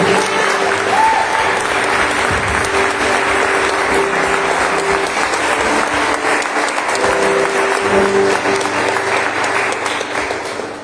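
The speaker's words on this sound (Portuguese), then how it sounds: "Mais um aplauso a ele." A church congregation at a Christian growth service claps loudly in a sustained, dense burst, with faint voices and a held tone underneath.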